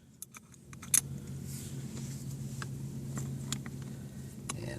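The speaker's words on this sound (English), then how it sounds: "you hold the top of the shock with a crescent wrench" Metallic clinks and taps from a crescent wrench gripping the top of a rear shock on a 2001 VW Jetta, with scattered sharp strikes over a steady low hum, close by, no talking.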